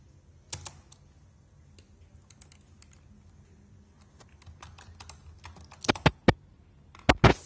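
Sparse keystrokes tapped on a computer keyboard while entering a Raspberry Pi configuration command, quiet and close, building to a few louder, firmer key presses near the end.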